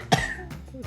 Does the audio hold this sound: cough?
yes